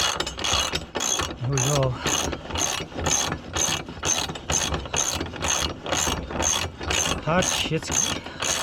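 A ratchet drives a bolt into a welded deck support bracket in a steady series of loud, rhythmic clicking strokes, about a dozen bursts, with someone briefly speaking between them.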